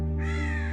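A single crow gives one harsh, loud caw, close and sustained for under a second, as part of a radio drama sound effect.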